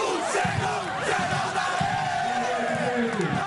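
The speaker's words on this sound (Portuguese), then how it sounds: "O prefeito foi recebido com aplausos." A large crowd cheers and yells in a sustained, dense roar at Marco Zero in Recife, greeting the re-elected mayor Geraldo Júlio at his victory celebration, with excited shouts rising above the continuous din.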